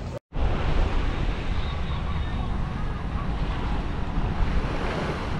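Waves and surf on a public beach in Nassau, Bahamas, a continuous loud wash with heavy wind buffeting the microphone after a brief cut at the start.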